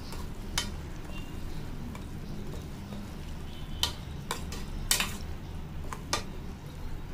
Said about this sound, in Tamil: இப்போ மறுபடியும் எல்லாத்தையும் வந்து நல்லா மிக்ஸ் பண்ணிடலாம்.